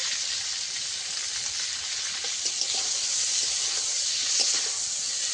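Pointed gourd (potol) frying in oil in a pan with turmeric powder, a steady close bright sizzle and hiss with small crackling pops scattered throughout.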